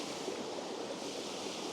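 Steady, broadband rush of a waterfall, close and even, with no break or other sound over the short stretch.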